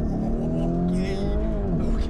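A Lamborghini Urus accelerates hard from inside the cabin, its engine note rising and falling through gear changes, loud and close with a faint voice beneath.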